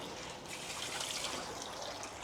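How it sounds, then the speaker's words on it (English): Water pouring steadily from a 3-stage pond dechlorinator used for koi care, a close, continuous trickling splash with no break and no voices. "So we'll get the water from the 3-stage dechlorinator"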